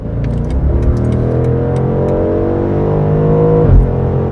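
A BMW M850i Gran Coupe in Sport Plus mode pulls hard while changing lanes, its engine droning loud and rising steadily before a brief dip and surge near the end, with no talking.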